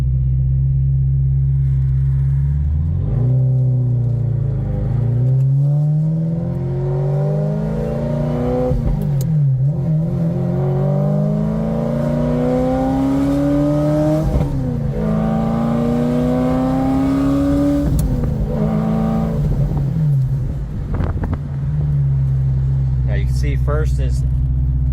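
Exhaust of a 1994 Ferrari 348 Spyder driven through the gears, a loud steady engine note rising in pitch with each gear, falling at every shift, then settling to a lower drone.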